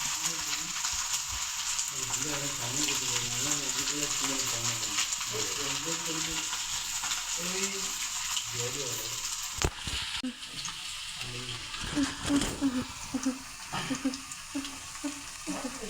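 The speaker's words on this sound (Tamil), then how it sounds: "நன்றாக எண்ணெய் காய்ந்தவுடன் பொரித்து எடுக்கவும்" Cauliflower deep-frying in hot oil, a constant bright crackling sizzle close by, with a soft voice speaking underneath for much of it and a clatter of utensils midway.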